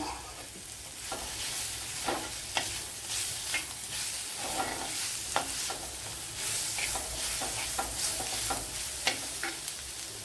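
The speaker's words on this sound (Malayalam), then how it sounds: "ഇതിലേക്ക് ഇനി ചെറിയൊരു തക്കാളിപ്പഴം എടുത്തിട്ടുണ്ട് അത് ഇട്ട് കൊടുക്കാം" Tomato goes into green gram curry cooking in a pan on a Kerala stovetop, with a constant close sizzle of frying and repeated scraping stirs throughout.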